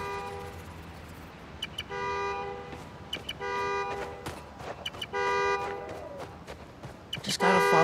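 A car horn, set off by a key fob in Marvel's Spider-Man: Miles Morales, toots in short repeated bursts, several quick honks in a row, loud against a background hum of game sounds.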